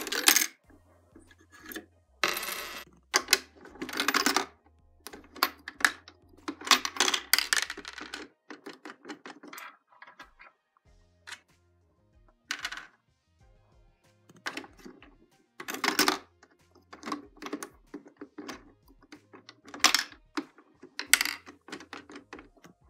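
Coins rattle and clink out of the rejection slot of a LEGO-built candy machine, loud and close, in repeated bursts of metallic jingling with short quiet gaps between them.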